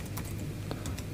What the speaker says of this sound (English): Open your browser and type